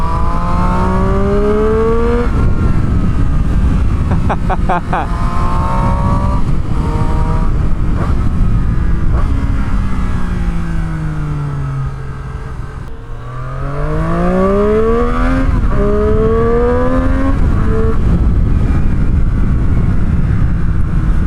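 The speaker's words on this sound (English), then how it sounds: "Listen to that triple cylinder soundtrack" 2019 Triumph Street Triple R three-cylinder motorcycle engine, ridden hard out on a track. A loud, close engine climbs steadily through the revs, drops briefly between gears and pulls up again, with no break over the whole run.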